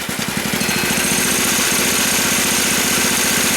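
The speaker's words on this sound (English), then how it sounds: "So you see the motor start." A golf cart engine fitted with a freshly cleaned PZ30 carburetor runs steadily up close, giving a rapid, even chugging pulse with a mechanical rattle and no voices.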